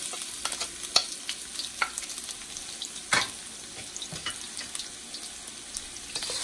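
Finely chopped garlic and ginger sizzling in heated oil, a quiet, steady fry with scattered sharper spatters and stirring clicks throughout.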